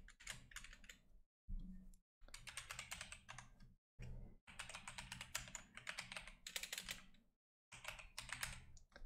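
Fast, crisp typing on a computer keyboard while filling in an online form, close and clear, in bursts of rapid keystrokes separated by brief pauses.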